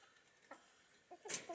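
Egg-laying hens, a non-native breed, give a few soft, faint clucks at close range, with a sharper squawk near the end.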